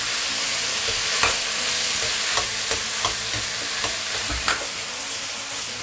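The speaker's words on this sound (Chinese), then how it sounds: "接下来放入这个青椒和这个小米椒，去翻炒它。" Green peppers and bird's eye chilies are stir-fried in a wok, a loud continuous sizzle broken by regular scraping strokes of the spatula every second or so, with no one talking.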